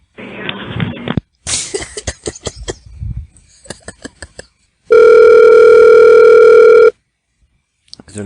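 A telephone line rings during a prank call. After stretches of talk, a loud steady tone holds for about two seconds, then the line goes quiet.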